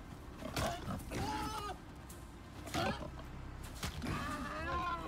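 Pig oinking in the survival video game Icarus, a few short grunting calls spaced across several seconds with game sounds in the background.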